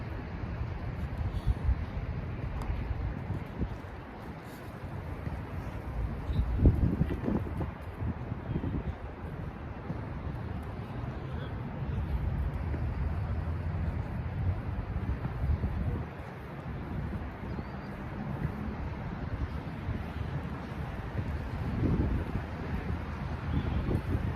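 Steady wind buffets a microphone outdoors, a constant low rumbling roar with gusty swells and a few stronger blasts, continuous throughout with no other clear sounds.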